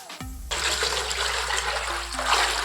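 Water pours steadily into a pot for cooking rice after a short clunk, a continuous rushing splash with a low hum underneath.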